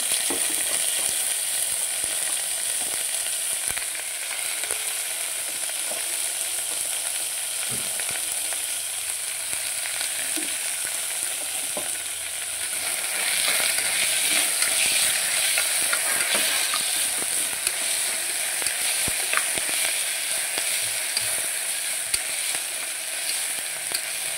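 Ingredients fry in a pan for moong dal rice, giving a continuous close sizzle with scattered crackles and stirring scrapes that swells slightly midway, with no voices.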